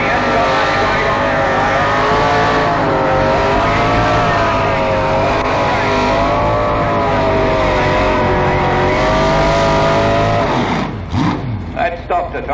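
Pulling tractor with a worked 454 engine revving hard at a tractor pull, a loud sustained roar with wavering pitch as the wheels spin, fading near the end while a commentator talks over it.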